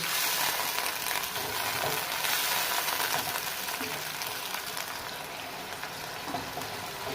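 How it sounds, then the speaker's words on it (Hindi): Chicken white karahi frying in a pan, restaurant style, a dense steady hiss of sizzling oil that runs throughout, moderately loud and close, with faint stirring. "इसी में 3 से 4 मिनट के लिए इसको और बुनाई करेंगे।"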